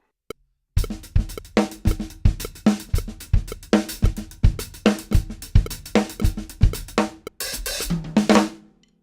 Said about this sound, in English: So it combines a Cascara rhythm on the hi-hat and a calypso rhythm on the kick and snare.